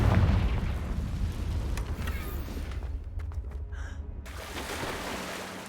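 A Confringo spell blast in Hogwarts Legacy: a deep booming explosion opens loud, then a rumbling, crackling tail decays over several seconds, with a few sharp pops near the end.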